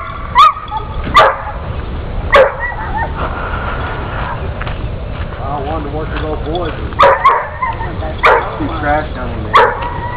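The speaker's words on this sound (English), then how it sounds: "Man, where'd that dog come from?" A dog barks in sharp, loud bursts, a few quick yips then pauses, close by, while people talk and chatter around it.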